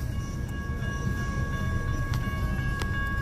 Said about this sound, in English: It's a trailer train.